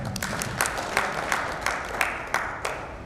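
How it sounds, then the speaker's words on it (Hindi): Audience at a seed company dealer meet claps together in a rhythmic, steady beat, roughly three claps per second, moderately loud and unaccompanied by talk. "गोपाल जी की तालियां हो जाए।"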